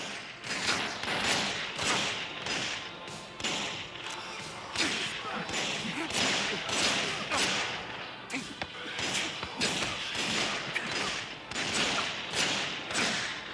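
Gunfire in the mobile crime game Gangstar 4 sounds as repeated sharp shots and short bursts in an uneven rhythm over a constant mechanical background, moderately loud throughout.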